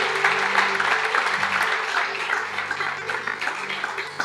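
A church congregation claps and applauds steadily and loudly for several seconds, with no pauses.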